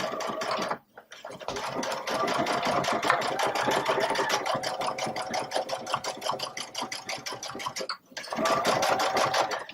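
A Baby Lock Solaris sewing machine runs steadily, top stitching a bag, with a continuous close motor whir and rapid needle chatter, pausing briefly twice before resuming.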